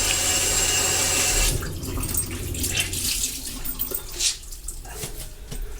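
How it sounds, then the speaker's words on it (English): A cloth rinsed under a running tap, with water splashing steadily and then breaking into irregular trickles and drips as the cloth moves through the stream, close and loud with no talking. "Rinse my cloth out."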